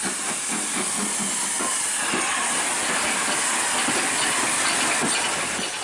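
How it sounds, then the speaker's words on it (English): A steam train rumbles past with a loud, steady hiss of steam and a rhythmic chuffing beat underneath, close and continuous. "steam train"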